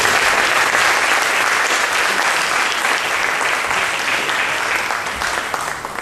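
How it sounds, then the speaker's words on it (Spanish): Steady, dense audience applause at a formal event honoring a school director, loud and sustained throughout before easing slightly at the end. "Un aplauso"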